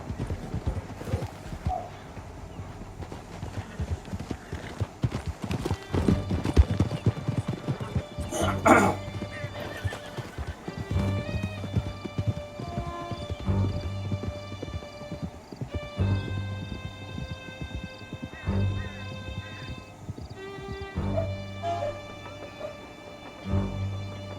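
Horses galloping in the video game Red Dead Redemption 2, steady close hoofbeats with a whinny, running under music and scattered game sounds throughout.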